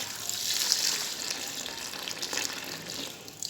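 Water poured into a worm feed mixture for partridges and chickens: a steady, hissing splash and trickle, close and fairly loud, with no talking.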